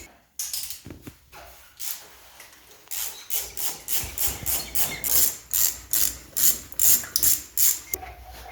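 Rapid ratchet clicks from a ratchet wrench as bolts come off a motorcycle's front fairing, bursts of quick pawl ticks growing louder and more regular into a steady series of close, sharp clicks.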